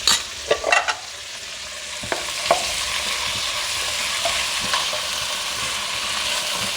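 Meat sizzles steadily in a hot pan with ginger garlic paste, for arvi gosht salan, with a few sharp clinks and scrapes of a spoon stirring near the start.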